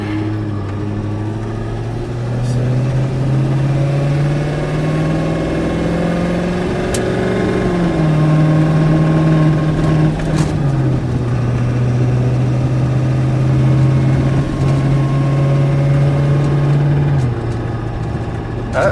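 A 2013 Ford F350 with a 6.7 Powerstroke diesel, EGR/DPF deleted and tuned, accelerating at about half throttle on a country road, its deep engine drone climbing steadily through shifts, loud and continuous from inside the cab.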